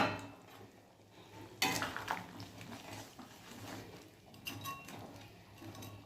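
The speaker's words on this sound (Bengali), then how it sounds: "ঝোলটা ফুটে উঠেছে, এবার ভেজে রাখা মাছগুলো সব দিয়ে দেবো।" Fried rohu fish pieces go into a boiling, spice-light curry broth in a pan, giving a sudden clatter and splash of utensils and pot. A low simmering bubble fills the rest, with intermittent scraping and no talking.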